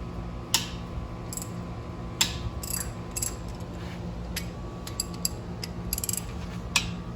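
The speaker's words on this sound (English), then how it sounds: "we're going to crack these 2 bolts on the back of the caliper loose" A 12 mm ratchet clicking as it cracks loose the rear brake caliper bolts on a 2016–2021 Honda Civic, with sharp intermittent ticks over a steady hum of garage background noise.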